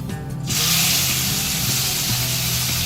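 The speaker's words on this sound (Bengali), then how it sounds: "নুন হলুদ সর্ষের তেল মাখিয়ে রাখা চিংড়ি মাছগুলো এই সর্ষের তেলের মধ্যে ছাড়া হবে" Prawns coated in salt and turmeric dropped into hot mustard oil, setting off a sudden loud hiss that bursts in after a brief low hum and keeps sizzling steadily; close and without talk.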